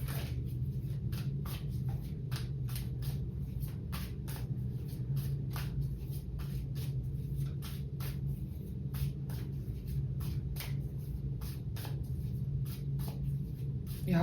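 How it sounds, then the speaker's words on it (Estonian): Tarot cards being shuffled by hand produce a faint, evenly spaced run of soft flicks and riffles, repeating about every half second in a quiet room. "Ma segan kaardid ära."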